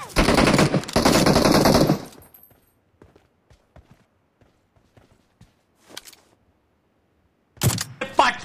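Loud, rapid automatic gunfire rattles for about two seconds in PUBG Mobile, then soft footsteps tap in a quiet stretch. Another sharp burst of shots breaks out near the end.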